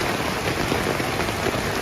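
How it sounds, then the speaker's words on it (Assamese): Heavy rain pours down near a beach in northern Phuket, a dense, steady hiss of drops hitting surfaces close by, with no talking. "বৰষুণ যাই ৰখিব বুলি ভাবিছিলোঁ নাই ৰখা বেছি ডাঙৰকৈহে দিছে"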